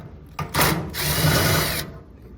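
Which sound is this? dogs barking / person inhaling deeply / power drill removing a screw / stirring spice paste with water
power drill removing a screw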